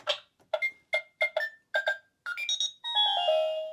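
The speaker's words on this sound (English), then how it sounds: "this actually locks the door and sets the alarm." Electronic beeps from an American Girl x KidKraft luxury dollhouse as its door lock and alarm are set, a quick series of short chiming tones followed by a rising melodic jingle that ends in a sustained tone.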